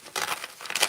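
Gift wrapping paper being torn open from the top of a glued package, two quick bursts of close, crisp crinkling and ripping.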